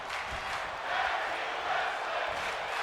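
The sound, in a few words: wrestling video game crowd cheering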